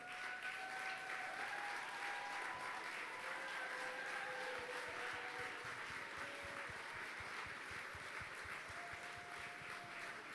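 Sustained applause fills a ceremony hall as the audience honours the presidents, vice presidents, executive committee members and staff, a dense, steady wash of clapping with a few sung or whistled tones drifting above it.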